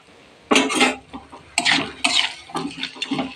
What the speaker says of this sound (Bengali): গ্যাসটাকে একটু বাড়িয়ে দিয়ে নাড়তে থাকবো